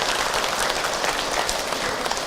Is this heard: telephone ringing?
no